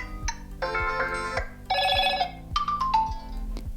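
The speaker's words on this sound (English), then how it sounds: "we have the phone ringtone, and here we can simply select another one" A ringtone preview plays from a Motorola Edge 40 Neo phone: a bright electronic melody of short chiming notes and a deep bass pulse, clear and close.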